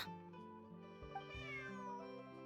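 A cat lets out one soft meow that rises and falls, set against a steady background of music.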